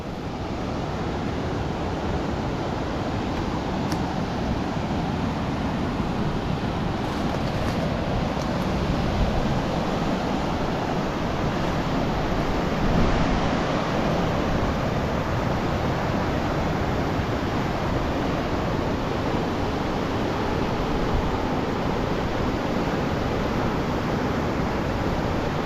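Rushing water pours steadily over rock steps in a small stair-step waterfall, a dense, unbroken roar that stays loud and close the whole time, with no voices.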